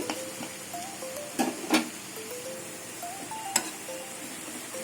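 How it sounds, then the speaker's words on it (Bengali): Garlic paste frying in oil in a pan, a continuous soft sizzle with occasional sharp clinks and taps of a utensil, no talk. "এই তেলের মাঝখানে আমি রসুন বাটাটা দিয়ে দেবো রসুন কাঁচা গন্ধটা চলে যাওয়া অবধি রসুনটা একটু এখানটা ভেজে নেব"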